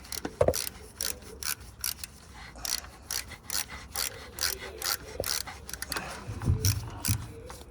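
A 7mm socket wrench works loose an alternator stud on a Ford F150 3.7, giving close metallic ratcheting and scraping clicks in irregular bursts with a low mechanical rumble beneath.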